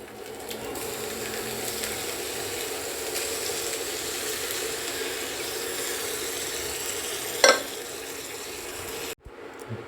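Cooked gram fries in a Hawkins Futura cast iron kadai, a moderate steady sizzle with faint stirring, one sharp clatter near the end, then a sudden cutoff.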